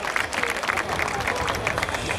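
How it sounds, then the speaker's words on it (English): An audience at a Diwali celebration claps in a brief, dense round of applause for sponsors, with scattered louder claps throughout. "How about a round of applause for our bronze sponsors?"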